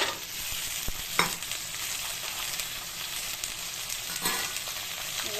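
Diced potatoes frying in a pan, a constant close sizzle with a couple of spatula scrapes and knocks as they are stirred.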